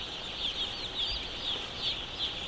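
Young chickens in a brooding chamber cheep and chirp steadily in a soft, constant chorus over a low hum of ventilation.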